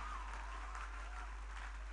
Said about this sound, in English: put your hands together for God Almighty